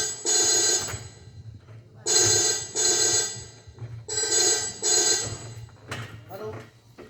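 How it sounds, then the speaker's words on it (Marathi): A telephone rings in repeated bursts in a home, the bright electronic ringtone sounding loud and close in four or five pulses separated by short gaps, with brief voices between rings. "बघ जरा फोन कुणाचा आहे"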